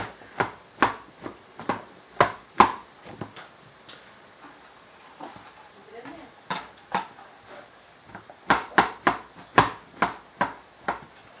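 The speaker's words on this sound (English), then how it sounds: "Chopping up a little bit more of these mushrooms." A knife chops mushrooms on a cutting board in sharp, close, rhythmic strokes, steady runs of knocks with a brief pause in the middle.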